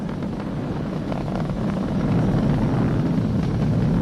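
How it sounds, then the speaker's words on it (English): Falcon 9 rocket engines roar during ascent on a SpaceX Crew Dragon launch, heard as a continuous, loud, broadband rumble that swells slightly midway, with no talk. "Vehicle is supersonic. We've exceeded Mach 1 on the Falcon 9."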